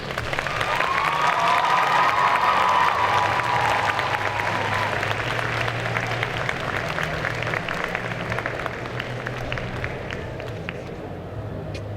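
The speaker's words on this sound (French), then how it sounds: "Je vous demande d'applaudir encore une fois" Audience applause with some cheering at a Belgian cosplay contest selection held at Made in Asia 2023, loud and sustained throughout, fading slightly toward the end.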